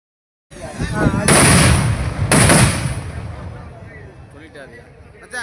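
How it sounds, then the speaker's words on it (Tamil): Firecrackers burst at a village temple chariot festival, a loud dense crackle of rapid bangs with two sharp peaks, then a gradual fade as the popping thins, with crowd noise underneath. "இப்போ தனக்கு வெடி வெடிக்க ஆரம்பிச்சிச்சு"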